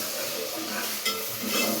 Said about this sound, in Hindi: ये तो प्याज भून रहा है अभी प्याज।